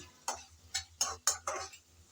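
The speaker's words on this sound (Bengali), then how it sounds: "নেড়ে চেড়ে কিন্তু আর একটু শুকিয়ে নেব আমি" Dried shrimp stirred in a pan gives five sharp scraping strokes in an even rhythm, close and clear with quiet gaps between.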